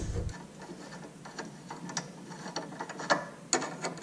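Hand tools undo a sway bar link nut on a Subaru Forester, producing quiet, scattered ratcheting ticks and small metallic clicks at close range, with no one speaking.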